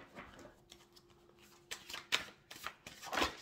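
Thoth tarot cards being shuffled by hand, soft riffling and flicking with irregular sharper snaps, close and quiet.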